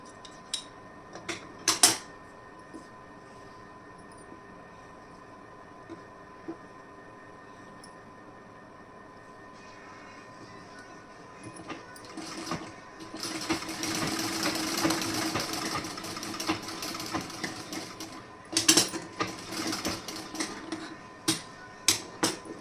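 A sewing machine stitches piping onto fabric: faint clicks and handling first, then a steady mid-length whirring run of stitching from around ten seconds on, with sharp clinks of scissors or metal parts near the end.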